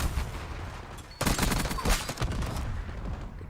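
Rapid bursts of gunfire crackle during a Black Ops 6 ranked Hardpoint match, a dense volley erupting suddenly and continuing at a steady roar.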